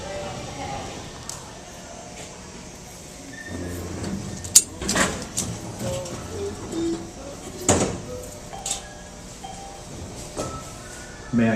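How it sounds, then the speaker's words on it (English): Metro train doors slide shut with a couple of sharp thuds and clatters inside a station, set against steady platform hum and muffled background voices. "Step back, doors closing."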